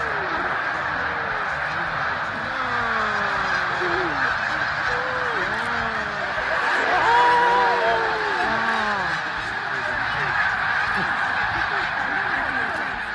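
A dense flock of geese honks continuously, many calls overlapping into a loud, close clamor that swells midway through, staged as a bird parody of a battle scene from the film 300.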